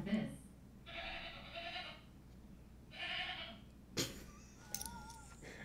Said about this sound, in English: A goat sounds like this.